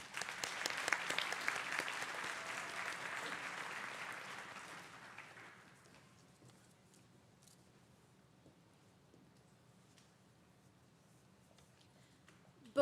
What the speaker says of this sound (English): let's have one more round of applause for our winner.